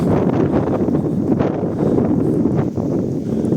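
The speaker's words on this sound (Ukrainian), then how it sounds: "Сильний вітер." Strong, gusty wind roars steadily outdoors in the town of Truskavets, a loud, unbroken rush of buffeting noise throughout with no voices.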